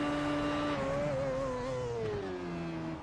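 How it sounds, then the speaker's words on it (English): Coanda SimSport race car in a sim race at Spa-Francorchamps, engine note falling steadily as it downshifts and engine-brakes into the Bus Stop chicane after Blanchimont, close and loud with no talk. "he's coming through Blanchimont now, at the bus stop chicane, he is aggressively downshifting"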